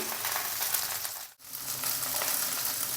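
Chicken reshmi kebab sticks fry in hot oil, giving a steady, close, bright sizzle. It breaks off for a moment as the sticks are turned, then resumes at the same level with no talk.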